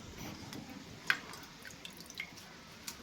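Water from soaked cooked rice drains off in faint, sparse drips and small splashes that fall irregularly against a quiet background.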